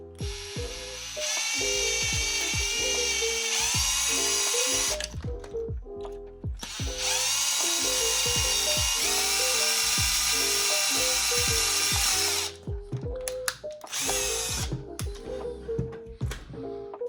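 A power drill whirs in two long, loud sustained bursts, drilling at a 45-degree angle during a GPStar Supreme kit wand install, with a short pause between them and clattering handling noises around the runs.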